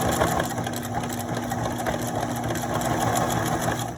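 A sewing machine runs steadily, stitching along the handle of a tote-style fabric bag, with a continuous close motor whir and needle chatter filling the whole stretch, no talking.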